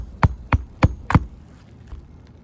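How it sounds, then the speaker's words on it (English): Four evenly spaced hammer blows drive nails into asphalt roof shingles just above the tar strip, close and sharp, followed by a faint lighter tap. "I'm gonna go ahead and just put these nails back in here right in the nailing zone just above the tar strip"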